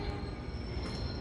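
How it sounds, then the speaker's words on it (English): A commuter train pulls into a station with a heavy rolling rumble and a thin, sustained high-pitched squeal from its wheels, fairly quiet and continuous, with no voices. "That is our regular train"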